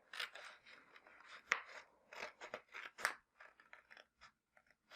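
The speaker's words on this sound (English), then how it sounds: "I'm going to go in with a pair of scissors and just cut right up to that" Scissors snip a slit into paper, a string of soft, close crunching cuts with faint scraping between them, quiet and alone.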